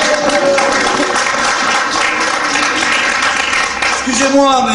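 Steady, loud applause from a theatre audience in Montfort filling the whole stretch, with voices heard over the clapping.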